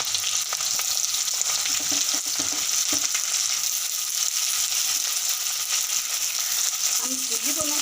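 Onions and green chillies with cumin frying in hot oil for Odia egg chilli, a loud continuous sizzle with faint stirring scrapes throughout and no talk.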